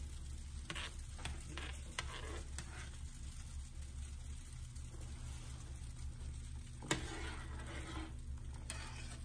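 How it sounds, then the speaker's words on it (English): A spoon stirs a pot of Jamaican sorrel drink, producing soft, steady scraping and liquid swishing with a few sharper clinks against the pot, all close and fairly quiet over a constant low background hum, with no talking. "Just do a little stirring."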